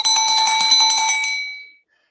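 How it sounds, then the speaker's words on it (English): A cowbell alarm tone from an alarm app rings in quick, bright metallic repeated strikes for under two seconds, then fades out, loud and alone. "and you could have the cowbell."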